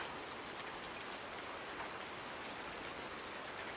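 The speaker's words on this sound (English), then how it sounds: "Still raining." Steady rain falls in Farming Simulator 19, a continuous even hiss of drops with no breaks, heard alone and fairly soft.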